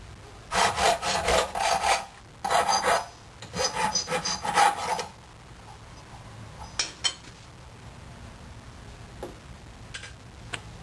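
Hacksaw strokes cutting steel eye bolts to length for a PVC bucksaw: three bursts of rapid, close rasping strokes, then a few scattered clicks and taps over quiet room noise.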